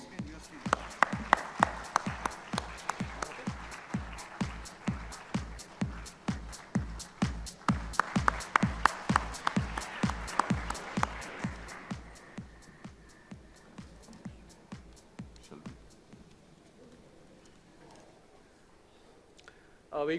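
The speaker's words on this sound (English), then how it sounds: "May we have a round of applause, please?" An audience at an investment knowledge summit claps in a steady, even rhythm of distinct claps that gradually thins and fades toward the end.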